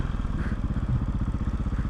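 A dirt bike engine revs hard and steadily up close while the rider pulls a wheelie, its throbbing, pulsing drone filling the whole moment with no pause.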